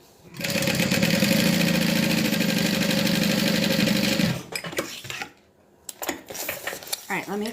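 A sewing machine runs steadily for about four seconds while stitching a fabric wristlet closed, loud and close, then stops and gives way to brief handling sounds.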